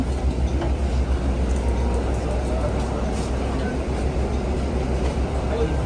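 A free public transit bus pulls in at a stop in Canada, its steady engine rumble and road noise loud and continuous throughout, with a few faint clanks.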